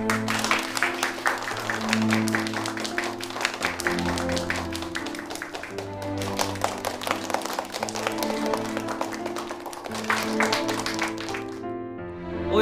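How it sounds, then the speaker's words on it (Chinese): Warm applause at a press conference greets an arriving official, steady and sustained for most of the stretch, blended with music playing underneath. "下面我们用热烈的掌声欢迎我们的接收大员欧阳晓峰先生"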